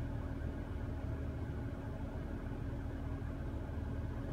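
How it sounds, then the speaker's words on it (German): A BMW 728i E38 idles in a very quiet cabin while its ventilation fan runs, a low steady rumble with a soft constant airflow hiss, no talking. "Ich höre nichts, außer die Lüftung."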